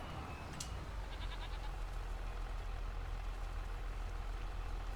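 A sheep gives a brief bleat in Farming Simulator 25 over the constant low rumble of an idling farm vehicle, with a short high call near the start.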